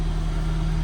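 A 1990 Toyota MR2 engine runs in a brief, loud, close idle with a steady low drone and no talking.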